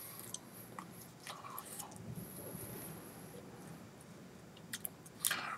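Someone chews Trident Layers gum in Sweet Cherry and Island Lime, with soft, wet mouth sounds and occasional smacks close to the mic, quiet between bursts.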